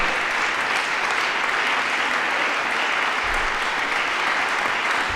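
Sustained applause from an audience at a district council meeting in Paris's 14th arrondissement town hall, steady dense clapping filling the whole stretch without a break.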